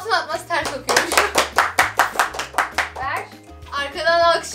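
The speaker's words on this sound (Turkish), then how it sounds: "Arkadan alkışı bekliyorum." Rhythmic group clapping, steady and fairly loud, beats out an even pulse while a voice talks over it and music plays underneath.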